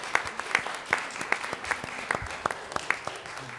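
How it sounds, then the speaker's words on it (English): A small audience at a city council meeting claps with scattered, distinct hand claps, sparse and uneven, fairly quiet in a room. "I think that we all owe Jennifer a big round of applause"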